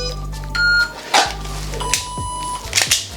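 A shot timer gives a short electronic beep during a dry fire drill, followed by clicks and handling clatter from the drill, all up close.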